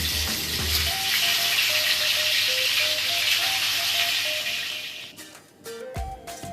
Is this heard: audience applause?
no